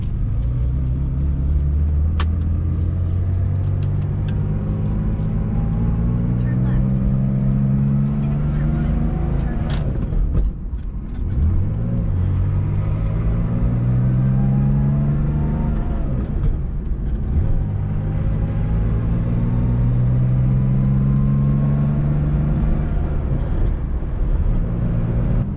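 A vintage air-cooled Porsche Targa drives along, its engine note rising and falling through gear changes, loud and close from inside the cabin with a throaty rumble under a voice talking.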